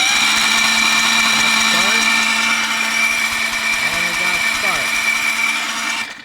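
A dragster engine is spun over by the starter to check for spark, a steady mechanical whir with a low hum and faint clicking, loud and close for several seconds.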